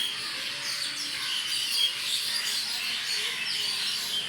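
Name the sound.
birds calling in the afternoon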